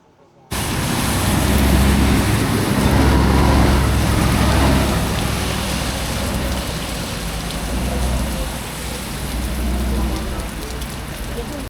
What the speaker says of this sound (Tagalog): Medyo umaambon ngayon.